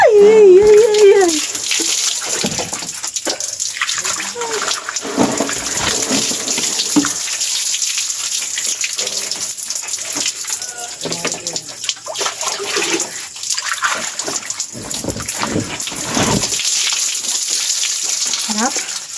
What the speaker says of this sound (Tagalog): Unang buhos.